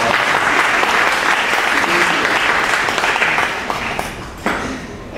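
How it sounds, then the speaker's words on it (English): Wedding guests give a steady round of applause, full clapping from a room of people that fades a little near the end, with a few scattered voices. "So if we can give them a round of applause as well."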